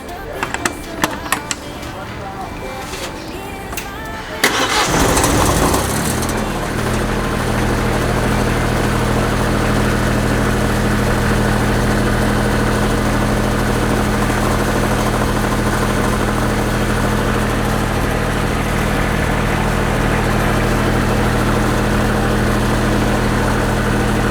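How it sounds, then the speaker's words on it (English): A generator engine on a deep-sea module cranks and catches after a few seconds of quiet, clattering handling noise, then settles into a loud, steady idle drone with a strong low hum that runs unbroken to the end. "let's start this generator if the problem is solved"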